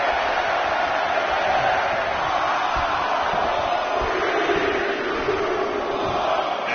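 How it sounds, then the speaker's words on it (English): Wrestling arena crowd in the WWE 2K20 video game roars in a steady, dense wash of cheering and noise, loud and continuous throughout. "Listen to this crowd."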